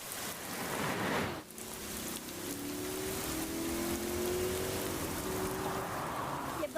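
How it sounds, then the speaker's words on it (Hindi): Heavy rain pours down in a steady, dense hiss that fills the whole stretch, with a faint tonal drone running underneath and no voices. "एक तो आज बारिश भी बहुत तेज है"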